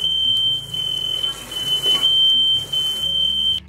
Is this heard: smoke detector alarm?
yes